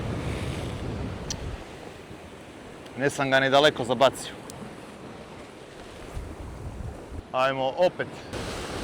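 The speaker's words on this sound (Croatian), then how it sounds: "mada džaba jer dosta nosi vjetar" Strong wind over the sea during shore fishing in a jugo, a steady broadband rush with surf, while someone speaks briefly twice over it.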